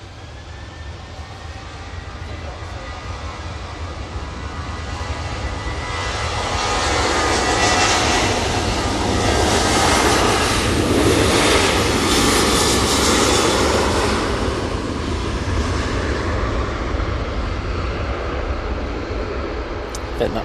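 An airliner takes off at Manchester Airport in a steep turning climb, its engine roar swelling from a distant rumble to a loud, sustained peak near the middle before easing off, with a voice talking over it.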